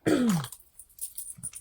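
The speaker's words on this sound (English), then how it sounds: "I have a little cough." Short, single throaty cough or throat-clear from a woman, close and loud at the start, followed by faint rustling.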